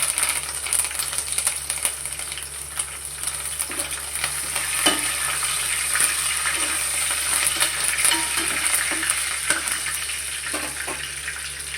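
Curry leaves spit and crackle in hot oil, a dense, steady sizzle close up with scattered sharp pops and light stirring clinks throughout, no voices.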